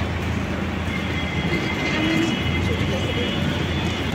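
A train passes through Santragachi railway station while the station is under reconstruction, producing a loud, steady rumble and rolling wheel noise throughout, with voices faint beneath it.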